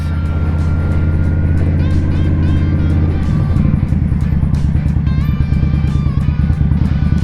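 An Indian Scout motorcycle drones steadily on a mountain road as cars pass by, the engine shifting pitch midway, with wind noise and a rider's voice over it.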